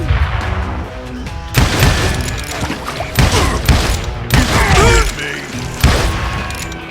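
Loud gunshots and volleys crack out in Call of Juarez: Gunslinger, with sharp repeated blasts and mechanical clatter arriving every second or so, close and forceful.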